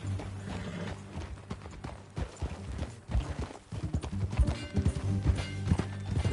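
A horse's hooves clip-clop at a riding pace in Red Dead Redemption 2, with rhythmic thudding steps close up over a low rumble and faint tack noise that grow louder toward the end.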